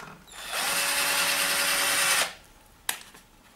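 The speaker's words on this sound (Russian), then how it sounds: "Поставили крыло, теперь затягиваем." A power tool tightens the bolt on a bicycle fender during assembly of a Make T4 bike, a loud steady whirring burst of about two seconds, followed by a brief sharp click.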